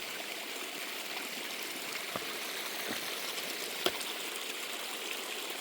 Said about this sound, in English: The river.